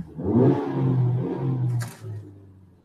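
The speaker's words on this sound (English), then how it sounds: "You hear that revving?" A 2.4-liter car engine revs in a low, rough roar that swells early and holds steady for about two seconds, then eases off with a brief higher hiss near the end.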